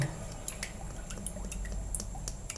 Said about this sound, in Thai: ใส่น้ำยานางลงไปครับผม